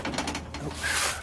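Cub Cadet riding mower parking brake engaging, a brief mechanical ratcheting click and clunk heard up close, with a creaky metallic scrape at the end.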